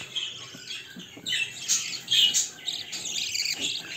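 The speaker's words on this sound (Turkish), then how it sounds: "Evet, burası cıvıl cıvıl işte." Pet budgerigars in an aviary chirp and chatter continuously, a busy overlapping flock of bright tweets and squawks close by, with no talking.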